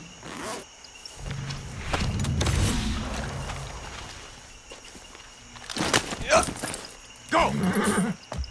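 A horse in the video game Far Cry 6 whinnies and snorts up close, with hooves clopping across the ground in loud bursts; someone speaks to it in low tones between the sounds.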